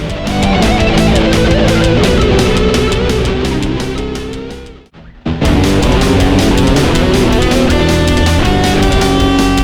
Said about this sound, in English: what you hear here is the guitar solo of said song.